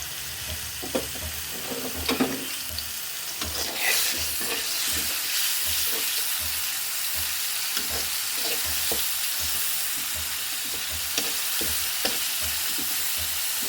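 Spice masala frying in hot oil as it is stirred for a prawn and taro root curry, with a steady close sizzle and repeated rhythmic scrapes of the spoon through the pan.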